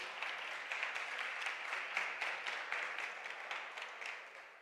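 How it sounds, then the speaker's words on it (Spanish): Audience applauds as a speaker takes the stage at the Podcast Days 2025 event, steady rapid clapping from a crowd at moderate distance, fairly quiet and fading slightly toward the end. "Un fuerte aplauso para él."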